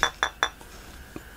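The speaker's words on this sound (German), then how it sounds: "beides aus Glas, klingt jetzt auch nicht genau gleich" Two glass light bulbs, one with a gold base and one with a silver base, tapped together three times in quick succession, giving bright ringing clinks, then a softer fourth tap, close and alone.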